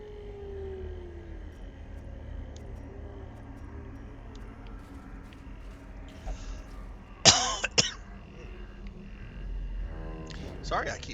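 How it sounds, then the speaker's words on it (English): A person with a scratchy throat coughs during a game stream, a short burst of two or three loud coughs standing out over quiet game music and low background noise. "Sorry, I keep coughing."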